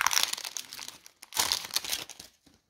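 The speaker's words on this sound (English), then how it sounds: "Sometimes these cards are hard to open." A Pokemon Lost Origin booster pack wrapper being torn open, foil crinkling and ripping in two close, brisk bursts separated by a short pause, with no talking.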